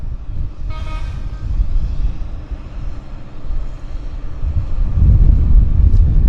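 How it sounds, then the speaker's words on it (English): A WestJet airliner rolls for takeoff at Vancouver Airport, its engine roar a low steady rumble that swells louder toward the end, with a short horn-like tone early on. "So WestJet's on the roll, looking good."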